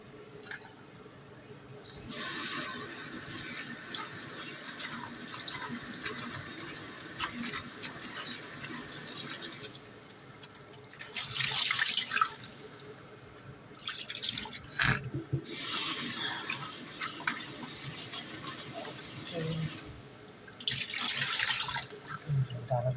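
Ridge gourd peels rinsed under a running tap, water splashing and gushing in several bursts with quieter pauses between, close and fairly loud.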